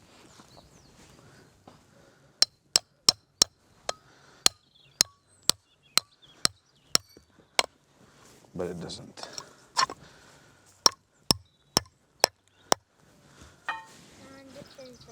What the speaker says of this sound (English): we chap this in the plug, and it will cause the feather to come out at an angle,